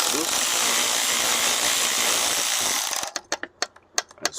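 An impact gun fitted with a socket loosens a fitting on a BMW M54 engine during oil separator work, giving a loud sustained whirring burst followed by a series of sharp rattling impact clicks.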